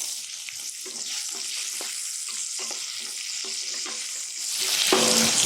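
Onion frying in a pan with oats and tomato, a steady sizzle close up with occasional stirring scrapes, louder toward the end.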